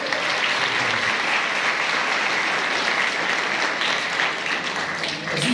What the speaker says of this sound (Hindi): ताली बजाए खुदा की जलाल के लिए